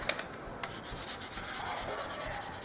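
Steady scratchy rubbing of 1500-grit sandpaper over a spray-painted surface, continuous back-and-forth strokes at close range with no talking.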